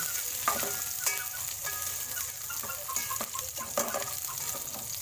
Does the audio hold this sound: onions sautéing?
yes